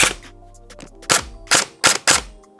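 SSR4 Mk2 airsoft sniper rifle firing after a trigger pull, a burst of sharp, snappy close-range cracks, the first two softer and the last four louder, each cut short with quiet gaps between.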